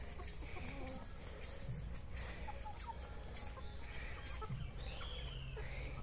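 Young chickens on a backyard farm cluck in scattered short calls over steady outdoor background noise, no one speaking.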